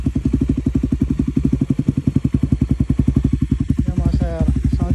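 Suzuki Raider motorcycle engine with a 70 + 3 carb setup and pipe, running loud and close with a steady, rapid pulsing exhaust beat throughout, with some light clatter and a brief higher rattle near the end.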